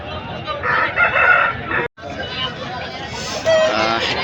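Country aseel chickens at a busy open-air fowl market, with roosters crowing and hens clucking up close amid a babble of crowd chatter and someone talking.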